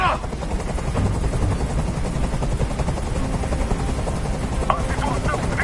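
A helicopter hovers nearby in the game Detroit: Become Human, its rotor thumping in a fast steady chop under continuous heavy noise, while a voice speaks over it.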